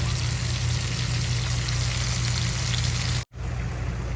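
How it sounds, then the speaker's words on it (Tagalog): Water is poured into a hot pan of sautéed squash seasoned with fish sauce. A steady, close hiss and patter carries on without talk, with a brief cutoff near the end. "Lalagyan ko po siya ng konting tubig"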